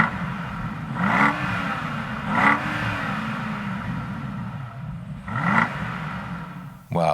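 A BMW X7 50i's 4.4-liter V8 engine idles with a steady low rumble, then blips three times into short revs with rising pitch, heard up close with a final sharper rise at the end.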